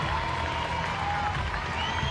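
A rugby crowd at a women's world cup match between England and Spain applauds and cheers in a steady, dense wash of clapping and voices that holds level throughout.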